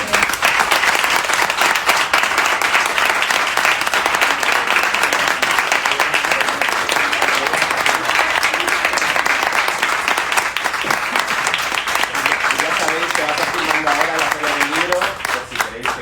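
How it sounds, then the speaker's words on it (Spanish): Sustained, even clapping from an audience at a book presentation for «La fosa» at a congress in Úbeda, a steady wash of many hands with some voices in the background and a slight tapering at the very end. "Yo creo que Lola merece un pedazo de aplauso"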